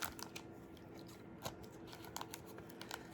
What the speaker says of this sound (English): I'm going to take my scissors and cut this extra off.